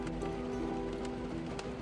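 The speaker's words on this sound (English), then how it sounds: "It was raining too hard, boss." Steady rain falls hard in a continuous, even hiss with a constant low hum underneath, and no voices are present.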